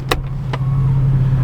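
An Infiniti FX35 idles and starts rolling, a steady low engine hum close by, with two brief sharp clicks or knocks near the start.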